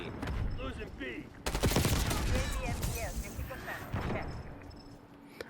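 C9 submachine gun firing in Black Ops 6, dense rapid bursts of gunfire with sharp cracks and bangs under excited game-chat voices, loud and continuous after a brief lull.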